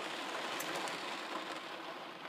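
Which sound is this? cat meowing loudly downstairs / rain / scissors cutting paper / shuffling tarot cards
rain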